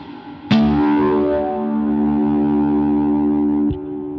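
A Helix modelled Princeton guitar amp tone with plate reverb: one struck chord rings out and sustains, then a second strum near the end, with the reverb tail lingering, clean and up close.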